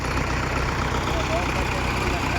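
A stuck tractor's heavy diesel engine idles steadily and close by with a deep, even rumble, while indistinct voices murmur in the background.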